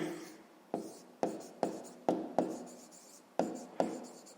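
A pen writing numbers by hand on paper in a quiet room, a run of short separate scratchy strokes at an uneven pace, each starting sharply and trailing off, close and clear with no talking.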